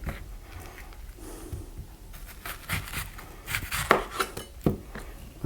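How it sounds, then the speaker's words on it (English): Kitchen knife chopping an onion for guacamole on a cutting board, a run of sharp, close taps and thuds growing denser in the second half, with no speech. "Now let's go ahead and cut our onion."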